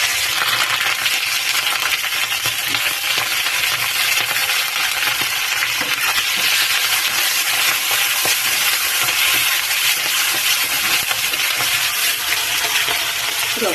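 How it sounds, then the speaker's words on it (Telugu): Ginger, green chillies and tomatoes fry steadily in a pan, giving a loud, continuous sizzle and crackle throughout, with faint occasional scrapes of stirring and no talking. "అలాగే పచ్చిమిర్చి, టమాటా వేగిపోతాయి అన్నమాట"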